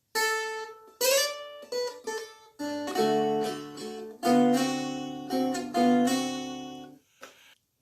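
Plucked dulcimer notes are strummed and slid between pitches on the middle harmony string in a slow, bright phrase, each strum ringing briefly before the next, played alone and close.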